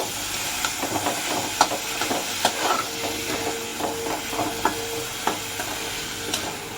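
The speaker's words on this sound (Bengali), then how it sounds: "পেঁয়াজ রসুন টমেটো লঙ্কা দিয়ে হলুদ লবণ দিয়ে সব ভালো করে এটা লাল লাল করে ভেজে নিলাম" Onion, garlic, tomato, chilli and dried shrimp, seasoned with turmeric and salt, sizzle quietly in a pan while a spatula taps and scrapes in a regular, unhurried rhythm.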